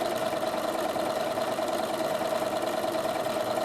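A Bernina sewing machine stitching a triple blanket stitch, a steady close mechanical whirr with a constant hum running evenly throughout, no talk over it.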